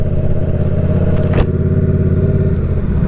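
A motorcycle engine hums steadily and close by as a beginner rider lets out the clutch and applies throttle in second gear, the tone holding even with a brief clattery burst midway.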